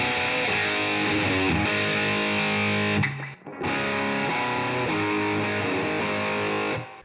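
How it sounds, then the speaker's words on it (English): An electric guitar runs through the Fly Rig OMG distortion section into a Universal Audio Dream '65 amp, ringing out thick, sustained distorted chords that break off briefly midway and then resume, loud and alone. "This is the OMG portion of the Fly Rig, which is the distortion section, straight into the Dream 65"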